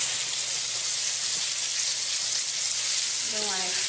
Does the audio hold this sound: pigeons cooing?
no